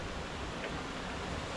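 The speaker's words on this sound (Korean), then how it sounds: "폭포야." A steady, dense rush of falling water from a small waterfall in rural Indonesia, heard continuously and evenly throughout with no talk.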